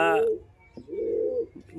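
A pigeon in a bamboo cage gives a single low coo in the middle, preceded by a brief voice-like sound at the start.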